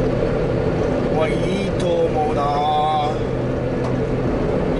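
The engine of a Subaru kei mini truck running on fresh Petro-Canada oil hums low and steady while driving, with wind noise and someone talking over it.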